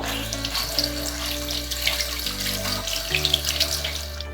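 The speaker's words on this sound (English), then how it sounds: "So once it's all coated like this, wash it all off again." Tap water runs steadily into a sink while a makeup brush is rinsed under it, a continuous close splashing hiss with small bursts of spatter throughout, no voices.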